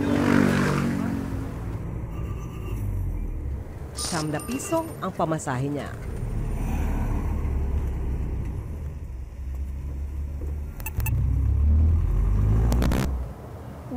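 A Philippine jeepney's engine rumbles steadily through stop-and-go commuter traffic, a low continuous drone with occasional surges, while a narrator talks over it.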